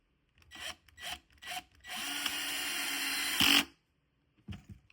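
A power drill drives screws into a wooden beehive, with a few short whirring bursts followed by one longer sustained run that ends in a sharp squeal, then quiet handling.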